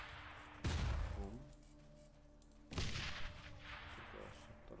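Two bursts of heavy game gunfire, each a loud thudding volley lasting over a second, separated by a short lull with a low electronic hum underneath.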